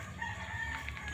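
A chicken gives a short, faint bout of clucking, heard alone at a distance.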